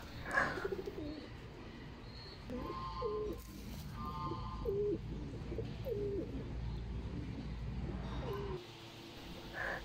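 Pigeons coo in a pigeon showroom, soft repeated throaty calls at a moderate distance over a low hum of room noise, with a few faint chirps mixed in.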